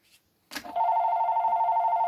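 A telephone rings indoors after a brief click, then a sustained electronic ring tone holds steady and loud, close by, with no talking over it.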